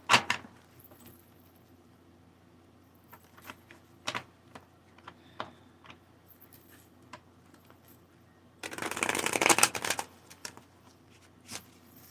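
Bursts of tarot cards being shuffled, with scattered soft riffles and taps followed by a longer, louder shuffling burst near the end, close by and without speech.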